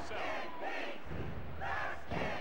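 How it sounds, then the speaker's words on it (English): A roaring arena crowd in the wrestling video game WWF War Zone, surging in loud chant-like waves of massed voices. "Listen to this crowd."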